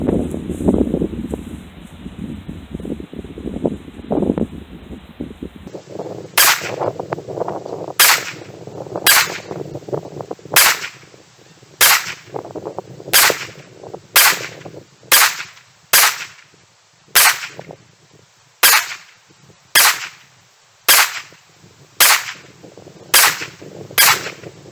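Sharp gunshots at an outdoor shooting range, a pistol fired at dot targets, about seventeen evenly spaced loud reports after a few seconds of rustling handling noise.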